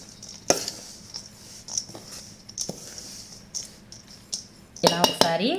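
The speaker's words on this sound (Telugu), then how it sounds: "ఇలా ఒకసారి గరిటెతో బాగా కలుపుకోవాలి." A ladle scrapes and clinks in a bowl while coconut and peanut filling for kajjikayalu is stirred, giving sporadic close metallic taps and scrapes, with a cluster of louder clatter near the end.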